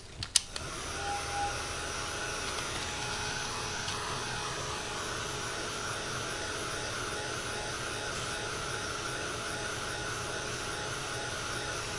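A heat tool or hair dryer blows steadily over a freshly glued art journal page decorated with washi tape, a close, continuous whooshing drone that holds at an even level throughout after a couple of brief clicks at the start.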